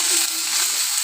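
Onion and tomato sautéing in a pan for egg rice, a brief burst of steady, bright frying hiss, close and even, with no talking.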